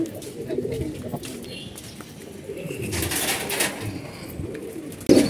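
Pigeons cooing in a loft in hot weather, low soft repeated coos close by under light background noise, with a faint rustle and a brief louder thump at the end.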